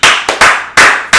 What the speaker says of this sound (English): Keep clapping, you guys.